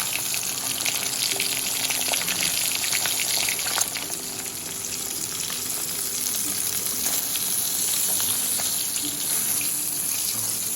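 Fish frying in a modest amount of oil in a pan, a steady dense crackling sizzle throughout, close and without talk.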